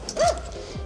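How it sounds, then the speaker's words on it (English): A small dog in a residential neighborhood gives a single short yelping bark near the start, followed by quieter background noise and a faint low rumble. "One of the cutest dogs in the neighborhood lives here."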